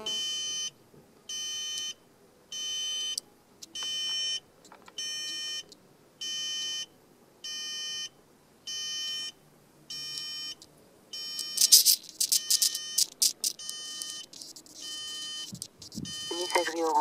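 A Feiyutech autopilot on a model aircraft drone emits a steady series of short, evenly spaced beeps while a GPS tracker nearby is being called. The beeps turn into denser, noisier electronic chirps toward the end, with faint background sounds.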